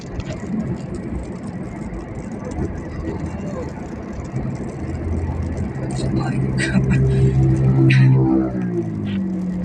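A motorbike passes on a rainy road, its engine swelling and then fading, under steady road noise and nearby voices.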